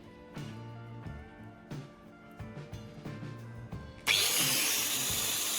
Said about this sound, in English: I then use an angle grinder to trim and sharpen the end of the rod